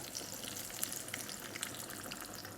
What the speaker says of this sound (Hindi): इस तरह साथ साथ फ्राई करते जाएंगे